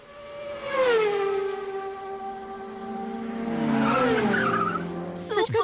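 A man vocally imitates a car and motorbike racing past, with long revving engine whines that rise, fall and sweep through the pitch range before a sharp noisy burst at the end, fairly loud and close.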